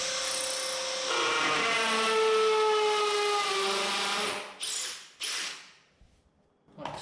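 A power drill bores into tile with a steady high whine and grinding rasp for several seconds, then stops, followed by a couple of short bursts before falling quiet.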